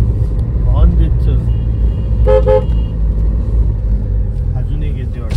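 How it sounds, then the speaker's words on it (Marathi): A car horn gives two short toots on a mountain road amid a deep engine rumble, with people talking close by. "चालू आहे ना, हॉर्न देत."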